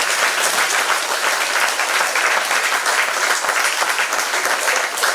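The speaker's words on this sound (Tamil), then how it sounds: "இங்கு வந்திருக்கும் அனைவர்களும் கரகோஷம் பண்ணுமாறு அன்போடு கேட்டுக்கொள்கிறேன்." Audience applause at a Bharatanatyam dance performance by a dance school, with continuous loud, dense clapping throughout.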